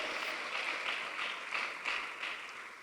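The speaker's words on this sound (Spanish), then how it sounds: "fuerte, fuerte las palmas al Señor." A church congregation claps hands in praise, a faint, distant and roughly rhythmic wash of many palms beating together with no voices over it.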